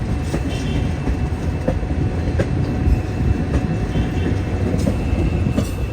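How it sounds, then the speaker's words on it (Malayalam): A passenger train pulls into New Aryankavu railway station in Kerala, a loud, steady rumble of wheels and carriages with faint rhythmic clicks, no voices. "ന്യൂ ആര്യങ്കാവ് റെയിൽവേ സ്റ്റേഷനിലേക്ക് ഇതാ ട്രെയിൻ എത്തിക്കൊണ്ടിരിക്കുക"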